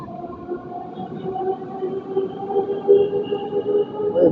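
A Moscow metro train runs with a steady tonal whine and rumble that swells slightly toward the end, with no talking.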